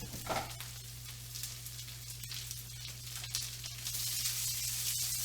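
Fresh spinach sizzling as it wilts in a hot pan, a steady loud frying hiss with occasional stirring scrapes, no voices over it.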